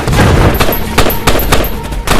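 Rapid bursts of gunfire crack out in a war film battle scene, sharp overlapping shots and short automatic volleys that stay loud and close the whole time, with no voices.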